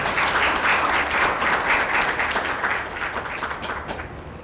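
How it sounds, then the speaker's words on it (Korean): Sustained, loud applause from an audience greets the chairman of the Daejeon Seo-gu district council at a youth council mock session, a dense wash of clapping that tapers off slightly at the end. "큰 박수 부탁드리겠습니다."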